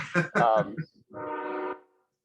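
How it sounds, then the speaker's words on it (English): A train horn sounds in a long steady blast after some brief speech-like sounds, moderately loud and near. "He'll blow his horn once more and we'll be done."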